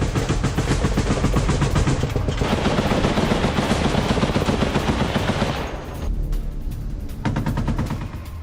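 Russian and Ukrainian troops exchange fire at close range in the Donbas war, with dense, rapid bursts of automatic gunfire crackling almost without pause and a short thinning near the end.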